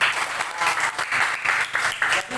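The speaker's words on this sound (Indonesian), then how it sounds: "Nah, ini ya tepuk tangan semua." A classroom of students claps together in short uneven bursts, the clapping rising and falling in loudness over a couple of seconds.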